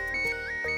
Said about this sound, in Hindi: सतीश का ही फोन आ गया।